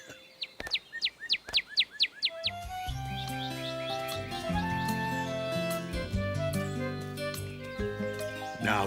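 A cartoon bird answers a whistled call with a quick run of about eight bright, rising chirps, then a bouncy musical score takes over with tinkling tones and a steady backing.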